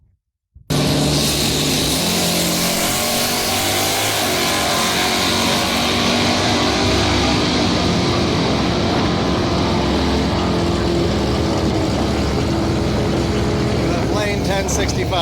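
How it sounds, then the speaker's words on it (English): Drag race cars at a muscle car event roar down the strip, a loud sustained engine blast that starts abruptly after a brief silence and holds steady, with the crowd and people talking faintly beneath it. "let's go watch the other cars race, some other drag races"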